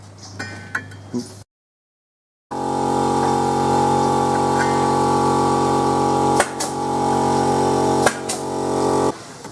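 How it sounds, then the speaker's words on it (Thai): A 7-inch, 40-tooth circular saw whines steadily and loudly after a brief pause, its motor droning at a constant pitch with a couple of sharp bumps as it cuts wood. "อันนี้ก็จะเป็นไปเลื่อยวงเดือน 7 นิ้ว 40 ฟัน ที่มีขายตามท้องตลาดทั่วไปนะครับ"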